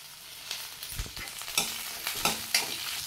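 Coconut pieces and curry leaves roasting in a clay pot, a crackling sizzle broken by repeated scraping stirs and spatula knocks, close and clear with no voices.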